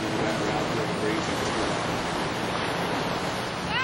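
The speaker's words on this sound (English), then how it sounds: "As you listen to the ocean in the background, feel the breeze." Ocean surf washes in as a broad, steady roar with some wind, continuous and fairly loud behind a voice speaking calmly.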